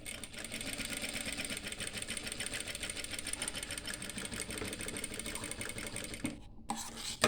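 A sewing machine stitching a rolled hem on a petticoat, a steady close-up mechanical whirring and rapid needle clatter running continuously, stopping briefly near the end with no talking.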